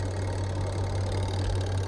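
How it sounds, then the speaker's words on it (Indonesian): A twin-tub washing machine's spin dryer motor, running again after a repair for a dead dryer, gives a steady, close, continuous hum with a strong low drone and no speech. "untuk mesin pengeringnya sudah bekerja kembali"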